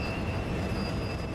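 Steady rumble of a heavy freight train rolling and slowing under its brakes in Train Sim World 2 on the Sand Patch Grade, with a faint high whine of wheels and brakes running through it.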